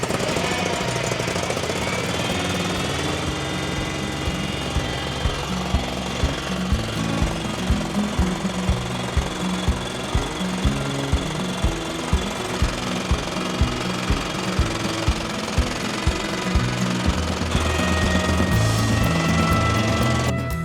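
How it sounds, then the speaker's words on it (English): A Terramite backhoe engine runs steadily after a stator replacement, a loud continuous mechanical drone with a rapid knocking rhythm throughout, rising slightly in intensity near the end. "Basically, I have to get the engine running"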